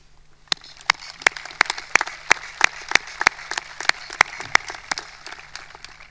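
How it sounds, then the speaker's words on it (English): Sparse, crisp handclaps at a 2021 high school graduation ceremony, a few people clapping in a loose uneven rhythm that stays light and spaced out over a faint room background. "you all deserve a round of applause from our families and school administration"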